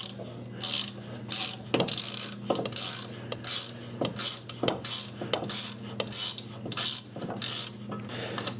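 Hand ratchet loosening a 10 millimeter strap bolt on a Volkswagen Jetta, rapid rhythmic clicking strokes repeating steadily, close and clear with no speech.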